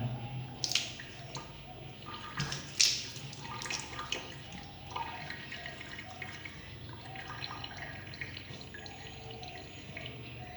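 Tap water runs into a bathroom sink during face washing, a steady low splash with a couple of sharp drips or knocks early on, fairly quiet and close, with no talking.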